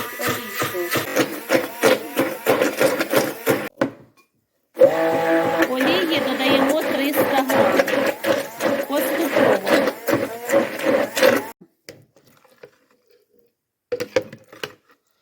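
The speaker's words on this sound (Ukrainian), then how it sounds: "починаємо збивати вниз вгору, вниз вгору" A hand blender whips egg and oil into homemade mayonnaise, its motor buzzing in pulsing bursts as it moves up and down, with a short pause before stopping and a few final brief spurts.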